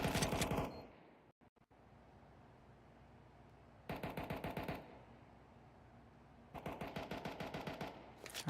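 Bursts of automatic gunfire in a competitive Counter-Strike esports match: a rapid rattling volley at the start, two more sustained sprays later, with quieter game ambience and a few sharp single shots between them.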